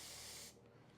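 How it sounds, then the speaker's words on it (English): A spray bottle gives one brief, close hiss of mist onto a wig cap, then the sound cuts off into quiet room noise. "Just spray this"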